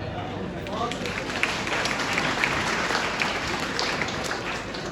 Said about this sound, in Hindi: बार बार ताली बजाने का हम जब तक बजाना है एक साथ बजा लो